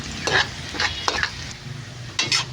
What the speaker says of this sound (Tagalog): Pag mag brown na siya, is lagay natin yung bawang. Siyempre, haluin.